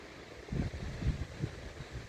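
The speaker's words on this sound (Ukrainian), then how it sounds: "Вітер такий, що зносить." Strong wind buffets the microphone in low, rumbling gusts that rise and fall over a few seconds, fairly quiet overall and with no voices.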